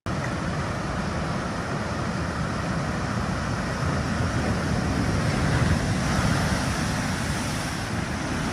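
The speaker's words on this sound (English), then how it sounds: "The ocean water overflows, flooding coastal areas and inundating nearby streets with waves and strong currents." Ocean waves overflow and flood coastal streets with strong currents, heard as a continuous, loud rushing wash of water and wind with no voices.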